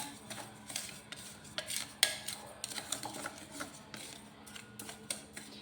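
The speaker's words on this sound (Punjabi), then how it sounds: "ਆਪਾਂ ਨੇ ਜੀ ਜਿਹੜੇ ਮਸਾਲਾ ਗ੍ਰਾਈਂਡ ਕੀਤੇ ਆ ਉਹ ਆਪਾਂ ਨੇ ਇਹਦੇ ਵਿੱਚ ਪਾ ਲਏ ਇਹਨਾਂ ਨੂੰ ਚੰਗੀ ਤਰ੍ਹਾਂ ਨਾਲ ਆਪਾਂ ਮਿਕਸ ਕਰ ਲੈਨੇ ਆ" Ground spices get mixed into a green chili pickle with a utensil, producing repeated scraping, clinking taps against a bowl in an irregular rhythm, close and moderately quiet.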